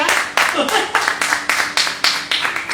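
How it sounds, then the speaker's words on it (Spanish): A congregation claps in a steady rhythmic beat during a Spanish-language church service, loud and evenly spaced strokes repeating for the whole stretch, with voices mixed underneath. "Démosle otro aplauso al Señor."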